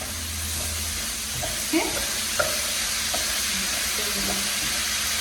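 Onions blitzed in a food processor hit a hot pan and fry with a steady close hiss and sizzle, a couple of soft knocks, and one brief spoken word.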